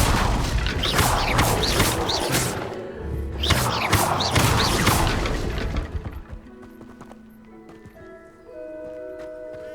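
A fiery blast from the Incendio spell in the game Hogwarts Legacy, several loud booming whooshes and crackling bursts over the first six seconds, then a quieter tonal ambience.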